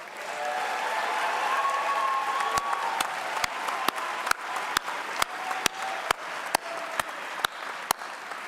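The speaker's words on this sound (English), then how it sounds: "How about a round of applause for the class of 24?" A large audience at a university commencement applauds the graduating class, a broad, sustained wash of clapping that stays steady throughout, with sharp individual claps standing out near the microphone.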